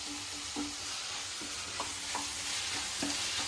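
Crushed ginger, garlic and green chilli sautéing with onion in a home kitchen, a quiet, steady frying hiss broken by light rhythmic scrapes of a spoon stirring the pan, with no talking.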